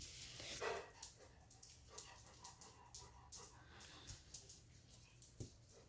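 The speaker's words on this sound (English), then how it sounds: "sorry if you can hear my dog, he's so loud" A loud dog barking repeatedly in a room, a run of sharp, fairly regular barks heard somewhat distant and quiet over a crafting table.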